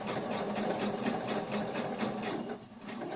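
A sewing machine runs steadily, stitching a shoulder bag at low speed with a short stitch length; rapid even needle clatter fills the clip up close, with a brief dip near the end.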